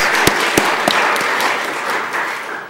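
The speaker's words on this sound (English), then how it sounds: "let's give Mr. Jaeger, Secretary Jaeger, a round of applause." An audience at a panel of the National Association of Secretaries of State applauds Secretary Jaeger, a brief burst of dense clapping with a few sharper claps standing out, fading slightly toward the end.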